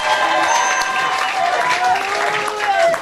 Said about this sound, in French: Applaudissons pour la gloire de Dieu.